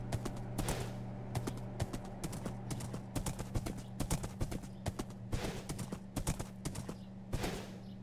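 Horse hooves clip-clopping in the Minecraft video game, a steady run of quick, sharp clops over a low background hum, fairly faint and without talking.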